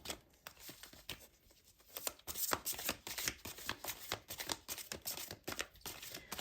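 An extra large deck of cards is shuffled by hand in a steady run of crisp riffling and flicking bursts, close and fairly quiet, with short pauses between passes and no talking.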